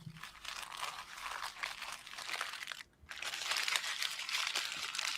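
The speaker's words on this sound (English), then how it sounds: "What's that bag rustling?" A bag rustling nearby, steady crinkling and crunching of plastic that continues for several seconds, breaks off briefly, then resumes more loudly, with no talk over it.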